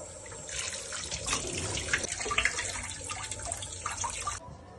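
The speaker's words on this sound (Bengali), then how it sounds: "ডাল ভালো করে ধুয়ে নিতে হবে।" Mung dal is washed under a running kitchen tap, with steady splashing water and grains being swished by hand, close and continuous until the flow stops near the end.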